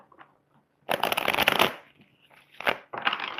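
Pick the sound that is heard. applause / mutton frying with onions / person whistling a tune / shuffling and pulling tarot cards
shuffling and pulling tarot cards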